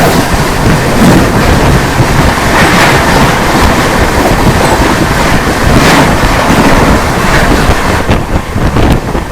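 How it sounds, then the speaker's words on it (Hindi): The Gatiman Express (train 12050) runs at speed after leaving Agra Cantt, a loud, continuous roar of wheels, rail rumble and wind buffeting heard from on board, steady throughout. "अपनी जो ट्रेन है गतिमान एक्सप्रेस में निकल चुकी है आगरा कैंट रेलवे स्टेशन के प्लेटफॉर्म नंबर 1 से"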